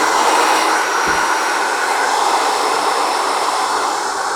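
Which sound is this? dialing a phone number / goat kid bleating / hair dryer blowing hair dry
hair dryer blowing hair dry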